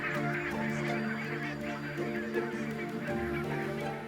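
Large flock of barnacle geese honking as they set off toward Arctic breeding grounds, a dense continuous chorus of overlapping calls, loud and close, over a low background rumble.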